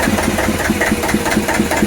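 A vintage Russell Newbery diesel engine on a narrowboat running steadily after starting, with a loud, even low thudding beat that fills the whole stretch.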